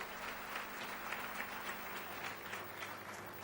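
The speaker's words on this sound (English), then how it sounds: "Please give a round of applause for his contribution to Indian industry." An audience at a World Human Rights Day event applauds a renowned film producer, giving a steady, even patter of many hands clapping at a moderate distance with no voices over it.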